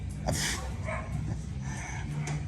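Dogs barking and yipping at a boarding kennel, several short barks scattered over a constant background din, fairly near, with no clear talk over them.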